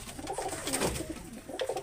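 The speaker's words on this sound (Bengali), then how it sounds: "খুবই শর্টপটে মানের একটা কবুতর জিরো ফেদারের কবুতর" A young zero-feather baby pigeon of a fancy breed coos softly in a loft, with a few short, low warbling coos in a brief, fairly quiet clip.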